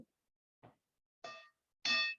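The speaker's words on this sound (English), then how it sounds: "I'm going to officially bring our meeting to a close by ringing a bell" A bell is rung to close a meeting: four separate strikes, each louder than the last, with the final two ringing out in clear metallic tones in an otherwise quiet room.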